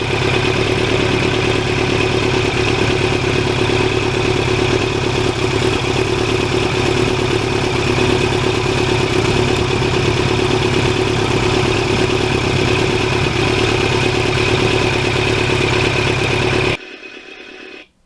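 A 1989 Kawasaki Ninja 750R engine running while riding, a loud, steady mid-pitched drone with rattling mechanical clatter, unbroken until it cuts out abruptly near the end.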